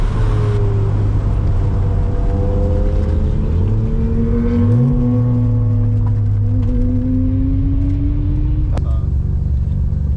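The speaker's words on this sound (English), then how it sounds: "listen to that Porsche. What a sound, guys." A Porsche race car engine drones loudly and steadily, with sustained harmonic tones that dip and then climb again as the revs rise midway, followed by a sharp click near the end.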